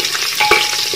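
Crushed garlic and green chili fry in a clay pot for chicken chatti biriyani, a brief close crackling sizzle with a single sharp clink of a utensil midway.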